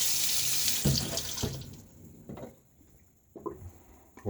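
Tap water running into a sink for rinsing during a shave, a close, full rush of flow that cuts off partway through and leaves a few splashes and drips.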